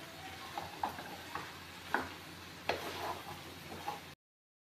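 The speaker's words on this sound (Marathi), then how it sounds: "आता त्याला फ्राय करून घ्यायचं आहे मस्त." Crispy soybean chili being fried and tossed in a pan, a faint low sizzle punctuated by a series of soft clinks and scrapes of a spatula at irregular intervals, quiet and close.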